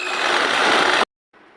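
Sewing machine stitching the lower hem of a petticoat, a loud continuous whirring run lasting about a second, then a brief pause and a softer short burst of stitching.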